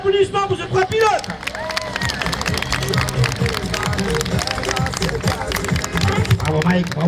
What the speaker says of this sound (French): je crois que ça mérite un tonnerre d'applaudissements pour ces 3 pilotes